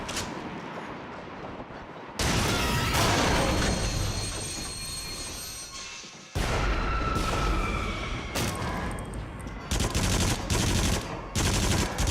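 Gunfire in the VR shooter Fracked comes in dense, loud bursts of rapid shots with harsh metallic clatter, broken by short pauses and several abrupt restarts.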